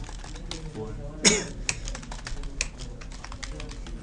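Clicking keys on a computer keyboard as a sentence is typed in a Windows 7 lesson, a quick irregular run of close, light taps with one sharper clack, over a low background hum.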